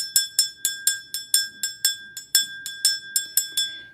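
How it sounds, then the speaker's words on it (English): A small metal bell, rung before a tarot reading, rings in quick, steady repeated strikes, about sixteen in four seconds. Each bright, close ring decays briefly before the next. No one speaks. "I use that bell anytime that I'm about to do a reading."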